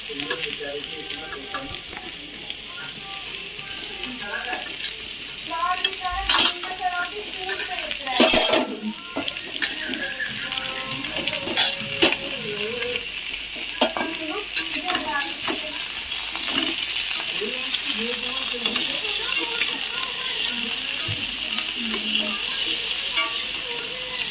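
Ridge gourd tipped into a hot pan and stir-fried, giving a steady loud sizzle with scraping and clinks of a spatula against the pan throughout, and a sharp burst around the moment it goes in.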